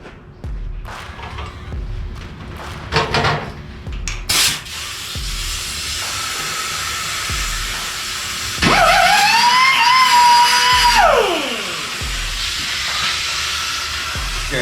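An angle grinder flattens a fresh weld on the passenger-side bed of a 1949 Jeep Willys pickup, giving a close, steady abrasive hiss with scattered knocks; midway a whining tone rises, holds, then slides down as the tool winds off.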